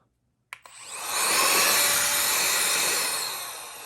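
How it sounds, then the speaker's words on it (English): An air blower blows dust out of a 1982 Panasonic CT-3052 CRT TV, starting with a sharp pop and building into a loud, broad, steady whoosh of rushing air that fades slightly at the end. "I took my blower here and I blew it out"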